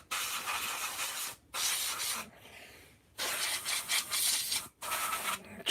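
An empty can of brake cleaner hisses out only air in close, faint bursts, three long sprays broken by short pauses, with no talking.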